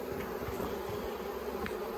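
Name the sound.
honey bees buzzing in hive box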